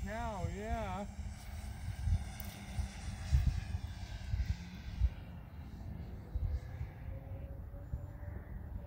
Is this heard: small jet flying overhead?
yes